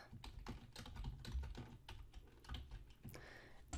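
Someone types an email address and password on a computer keyboard, with a rapid irregular run of soft close key clicks and taps, faint and without speech.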